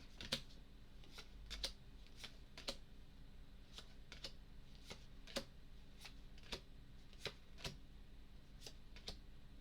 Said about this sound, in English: Then the encounter deck gets shuffled.